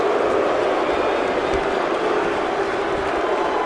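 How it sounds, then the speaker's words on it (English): A large arena crowd in the WWE 2K24 wrestling video game roars steadily, a dense, continuous wash of cheering and noise without any pause. "This crowd is loud in their hatred."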